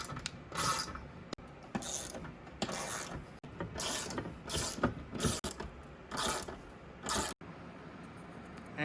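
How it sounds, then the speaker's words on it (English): A ratchet wrench tightens studs on a TV mount in repeated bursts of close, loud clicking, with short pauses between strokes. "you're gonna need one of these ratchet wrench to get that in there tight"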